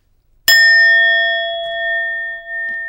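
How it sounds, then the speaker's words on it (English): A small Tibetan bell is struck once, giving a sharp bright onset followed by a clear sustained ring of several pure tones that decays slowly and keeps sounding to the end, with a brief faint noise late on. "I brought in my little Tibetan dong."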